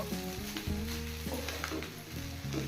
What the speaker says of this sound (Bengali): পেঁয়াজ পাতা ছড়িয়ে নুডলসের সাথে ভালো করে মিশিয়ে নেব